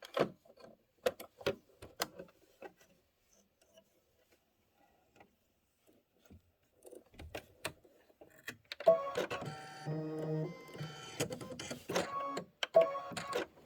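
A home embroidery sewing machine running a quilting pass, threaded in a buttermilk color: scattered mechanical clicks and taps at first, then a steady loud rhythmic whirring stitch pattern building over the second half.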